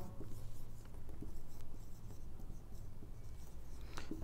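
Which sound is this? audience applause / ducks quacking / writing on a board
writing on a board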